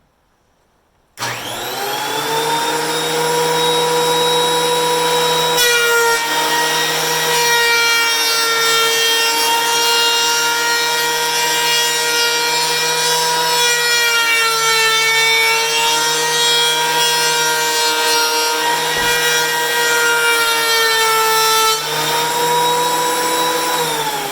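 Power sander grinding steadily against painted wood, stripping the paint, a loud continuous whine with rasping friction, briefly dipping twice as pressure shifts, no talking.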